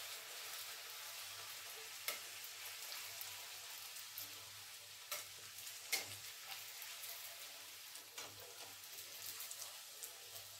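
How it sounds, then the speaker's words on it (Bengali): Luchi, puffed flatbread, frying in hot oil gives a steady, close sizzle with faint bubbling, broken now and then by brief sharp crackles and pops, with no talking. "এইভাবে সব লুচিগুলো ভেজে নেব"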